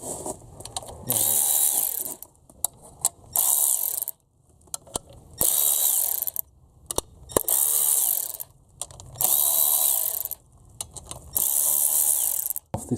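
A Milwaukee power ratchet with a 10mm socket spins out cam cover bolts on a Honda Civic EF in about six short whirring bursts separated by brief pauses, close up with no talking.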